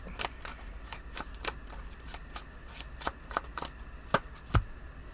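A new deck of reading cards being shuffled close up, with a quick series of soft riffling snaps and ticks and a couple of sharper clicks near the end.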